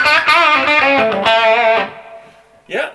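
An electric guitar played through a Boss Super Overdrive pedal switched on gives loud, distorted chords ringing close up for about two seconds, then decaying, followed by a brief voice.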